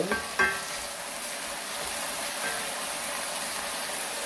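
Pork and mushroom bulgogi simmering in a pan as the mushrooms release liquid, a soft steady sizzle with a couple of sharp utensil taps near the start, fairly quiet and without talk.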